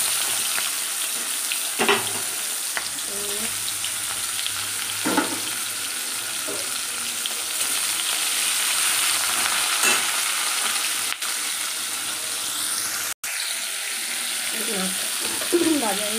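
Prawns frying in hot oil in a pan, a continuous close sizzle broken by several stirring scrapes and a sharp clack near the end, with faint background voices.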